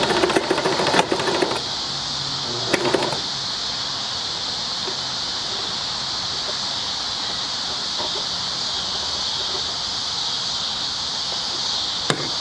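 A Dressmaker sewing machine running through buttonhole, straight and zigzag stitches, a steady close mechanical whir held for over ten seconds after a few short clattering bursts at the start.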